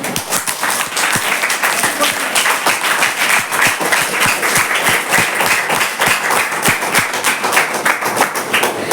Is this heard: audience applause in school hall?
yes